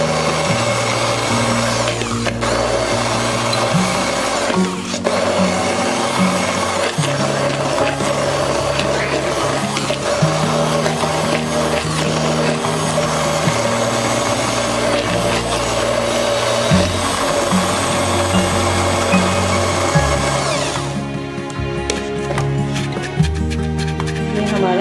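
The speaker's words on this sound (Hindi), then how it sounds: "अब मैं स्टिक ब्लेंडर की मदद से" A stick blender whirs steadily through a paste of mint leaves, green chillies, cumin and salt, a loud continuous motor drone with shifting pitch as it churns, cutting off near the end.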